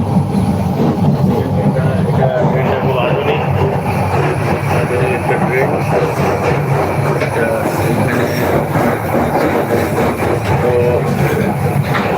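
A Parjatak Express passenger train runs on its rails, heard from on board as a loud, continuous rumble with rattling carriages and the occasional squeal of wheels, while a person talks over it.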